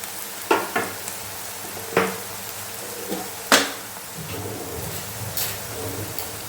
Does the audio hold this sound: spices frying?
yes